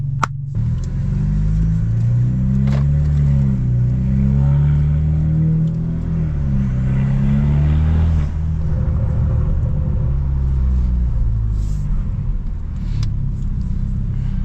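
A stage 2+ tuned BMW F30 328i exhaust drones loud and close from inside the moving car, rising and falling through gear changes with a steady low rumble and no voices.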